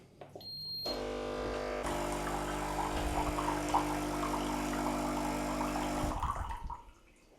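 A Ninja Prestige Dualbrew CFN802UK coffee machine's pump hums loudly and steadily for several seconds while brewing a lungo, with a faint liquid trickle, then cuts off abruptly.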